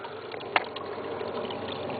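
Water running constantly through the drain of a hydroponic garden cooling system, a steady trickling flow with a brief splash near the start, heard close with no talk.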